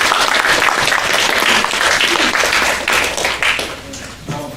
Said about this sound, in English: let's have a round of applause for language arts